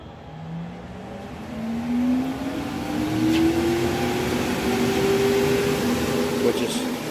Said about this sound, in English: now I got full control over my exhaust fan,